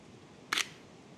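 A single crisp camera shutter click, one short sharp snap, close and clear against quiet outdoor background.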